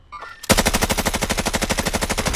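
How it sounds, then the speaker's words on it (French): Automatic gunfire in Call of Duty: Warzone, a loud close burst of rapid regular shots firing continuously after a brief quiet moment. "ça tire sur moi"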